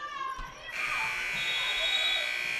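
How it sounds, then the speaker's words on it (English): The game clock buzzer sounds in a women's college basketball game in Wyoming, a sustained bright electronic tone that starts partway through and holds over faint gym crowd noise. "Throws up the ball after the fact that the buzzer went off and doesn't get anything."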